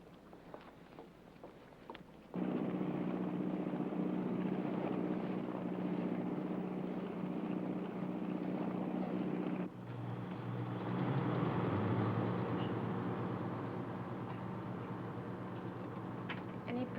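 A steady, loud engine drone with low rumble runs almost throughout, shifting in pitch partway through, like a boat motor churning along.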